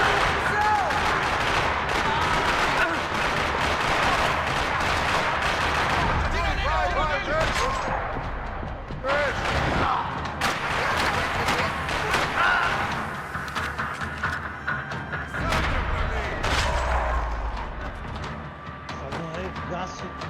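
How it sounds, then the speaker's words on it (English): Gunfire across a parking lot in the video game Max Payne 3, with repeated shots, bursts and thuds over a dense, loud backdrop, and voices talking throughout. "Another parking lot rattling with gunfire."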